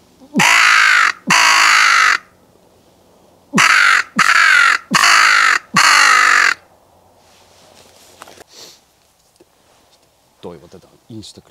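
Six loud, harsh crow caws ring out in two close groups during an early morning crow hunt, followed by quieter rustling and a voice speaking briefly.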